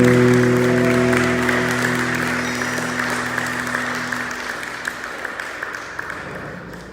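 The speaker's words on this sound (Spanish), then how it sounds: "Dale un aplauso fuerte al Rey." Loud applause from a church congregation, layered under sustained organ or keyboard chords that fade out, leaving a steady wash of clapping that thins slightly toward the end.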